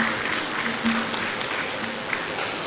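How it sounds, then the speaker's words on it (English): Applause from a conference audience fills the hall, a steady dense clapping that holds at an even level throughout, with no voices over it. "A round of applause for them one more time."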